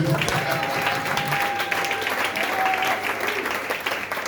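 A church congregation applauds steadily throughout, a dense broadband wash of clapping mixed with voices and a faint sustained tone.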